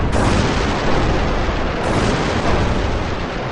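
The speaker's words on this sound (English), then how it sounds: "The fire gets to the cluster of cans and goes off." Fuel cans caught in a fire go off in a dense, continuous roar of blasts and crackling bursts, loud and close, with no pauses and no voices.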